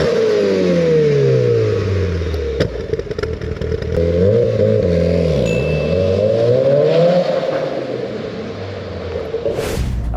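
A Mitsubishi Evo 9 engine revs loudly up and down from inside the car on a drive, with rising and falling pitch sweeps, turbo whistle and clattering, close and continuous without talk.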